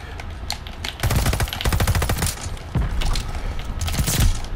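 Rapid video game gunfire in tight bursts, close and loud, with dense runs of shots, brief pauses between them and a final burst near the end, the kind of fire that might come from a pistol or a Cooper Carbine.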